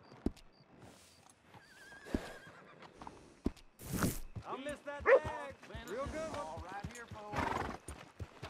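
Hooves clip-clop at a steady walk while a horse whinnies, with game music and other voices mixed in, in Red Dead Redemption II.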